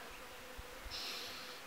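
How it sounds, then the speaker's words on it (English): A single bee hovers around a tree beside a quiet creek, its faint, thin buzz rising partway through and holding steadily against a hushed outdoor background. "I think I can even hear a bee hovering around a tree about 200 metres down there."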